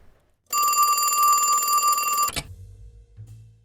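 An old-style telephone bell rings in one continuous, loud, metallic trill for about two seconds in an audio drama, then cuts off abruptly. A low hum follows.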